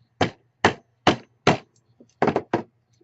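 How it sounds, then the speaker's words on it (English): Hammer strikes seating a Project Orange Hammershot kit piece, six sharp close blows in a loose rhythm, the last two coming in a quick cluster, over a faint low hum with no talk. "Now you're going to need your hammer again to get the piece in."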